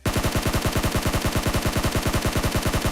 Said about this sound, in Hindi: भैया यहाँ पे फायरिंग देने लगता है, डैमेज देता है अच्छा खासा